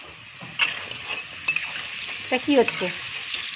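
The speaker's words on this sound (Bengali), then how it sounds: "আলু ভাজা" Potatoes sizzle in a frying pan under a steady hiss, with a few scraping stirs of a utensil against the pan and a brief spoken question partway through.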